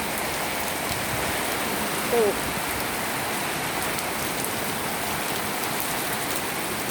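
Heavy rain pours down steadily in a dense, unbroken hiss in Samut Sakhon, Thailand, with a brief faint voice heard once beneath it.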